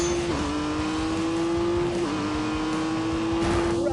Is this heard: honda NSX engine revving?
yes